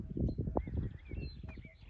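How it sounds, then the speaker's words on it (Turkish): Faint, scattered birdsong chirps in the distance in the Kozdere pine grove in Turkey, over soft low rustling and handling noise nearby. "Kuş sesleri falan"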